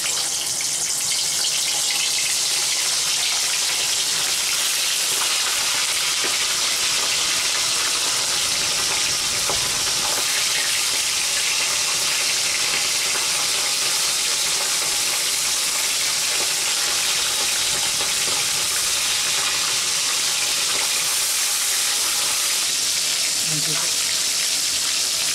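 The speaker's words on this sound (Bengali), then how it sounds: "মাছ ফ্রাই করে নেবো। এটা বাটা মাছ" Bata fish frying in a pan, a steady broadband sizzle and crackle that holds throughout, fairly loud and close, with faint talk at moments.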